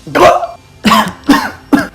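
A person coughs hard several times, four rough, throaty bursts with short pauses between them, close and loud.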